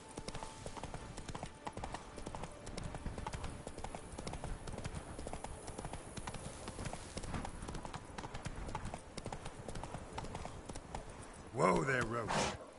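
Hoofbeats from Roach the horse in The Witcher 3, a dense steady clip-clop of galloping that runs the whole stretch before a brief louder burst near the end.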